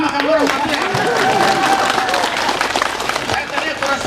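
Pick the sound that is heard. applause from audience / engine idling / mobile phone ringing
applause from audience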